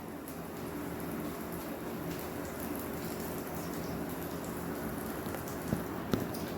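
Jowar flour aloo paratha cooks in ghee on a pan over a low flame, making a soft, steady sizzle that crackles like light rain, with a couple of faint clicks near the end.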